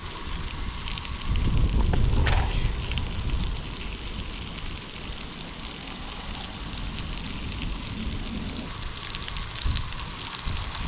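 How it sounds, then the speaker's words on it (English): Wind blowing outdoors during a breakfast cook in Colorado, a steady loud rumble and buffeting against the microphone throughout, with a stronger gust early on and faint sizzling underneath. "Here comes that wind again. Hope you're not hearing it, but you probably are."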